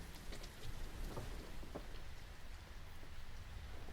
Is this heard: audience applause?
no